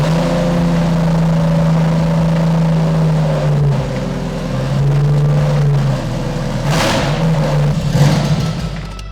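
A Toyota 1JZ engine fitted in a rebuilt, written-off Lexus fires up for its first start, holding a loud, close, steady idle with a few rises in revs.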